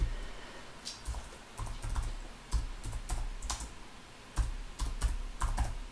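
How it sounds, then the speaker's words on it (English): Keys clack on a computer keyboard in irregular bursts of clicks with short pauses, typed one-handed, close and fairly quiet with no talking. "I'm typing one-handed"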